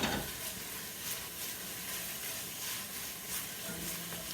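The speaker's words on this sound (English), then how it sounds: "we let it saute for about 4 minutes or so. And we want to stir it continuously to keep it moving around" Spices sauté in a pan with a steady broadband sizzle, close and moderately loud, with faint stirring scrapes running throughout and no talking.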